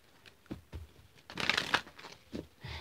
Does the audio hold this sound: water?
no